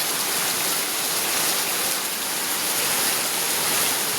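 Steady rain falling outdoors beside full ponds with water running off, a dense even hiss of rainfall and flowing water, no voices.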